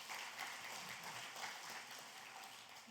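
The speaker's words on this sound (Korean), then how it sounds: "다시 한번 박수하십시다" Congregation applauding during a church ordination ceremony for new elders, a steady, fairly faint wash of clapping filling the room for a few seconds without talk.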